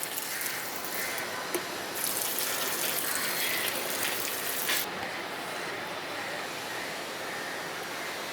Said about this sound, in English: And just water it